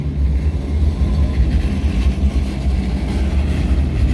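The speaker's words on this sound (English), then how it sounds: "let's wait until the tram is passing." A steady low rumble of a tram rolling past nearby in Liljeholmen, Stockholm, Sweden, continuous and fairly loud, with no talking.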